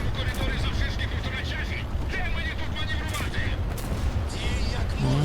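Rapid, continuous video-game gunfire crackles throughout, with bursts of shots and a voice talking over the action.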